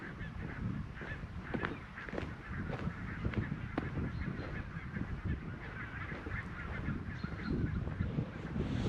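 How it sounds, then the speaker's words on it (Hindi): Thousands of birds gathered in a farm field produce a dense, continuous chorus of goose-like honking, loud and close throughout, with many overlapping calls and no talk. "ये सामने खेत में हजारों पक्षी बैठे हुए हैं,"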